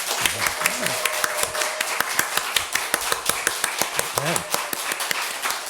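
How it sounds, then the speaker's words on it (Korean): A church congregation claps in thanks to God during a Sunday service, a quick, rhythmic run of sharp handclaps with a few voices murmuring and calling out beneath. "하나님께 감사의 박수 한번 올려드리도록 하겠습니다"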